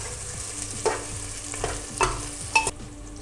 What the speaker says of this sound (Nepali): यसलाई अलिकति समयको लागि राम्ररी ब्राउनी फ्राई हुनु पऱ्यो